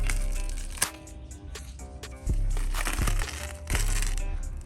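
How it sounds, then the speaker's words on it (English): Plasti Dip rubber coating being peeled off a car tire: crinkling, stretching rubbery tears in a few bursts under a steady low background hum. "watch it just peel that off"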